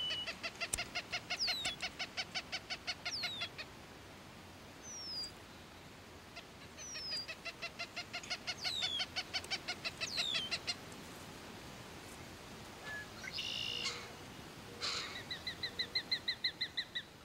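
A female goshawk calls in repeated bursts of sharp, rapid chattering notes while feeding her chick, with shorter squeals between the series, fairly faint against a quiet outdoor background.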